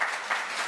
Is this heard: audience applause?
yes